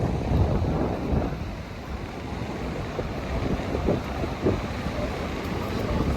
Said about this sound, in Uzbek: Havo ozgina shamol va ozgina sovuq.